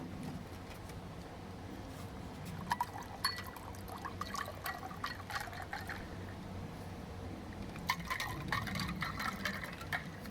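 A drink being poured into a glass for a summery pink cherry cocktail, giving a steady liquid trickle with a few brighter splashes near the middle and end, fairly quiet and alone.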